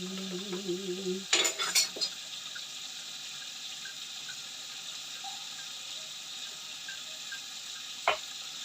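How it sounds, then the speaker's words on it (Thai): Crab cooking in a pan with chili paste, egg and garlic, a soft steady sizzle after a brief burst of running water and a few clatters at the start, then one sharp knock near the end. "ตอนนี้เรากำลังอบปูให้มันสุกอยู่"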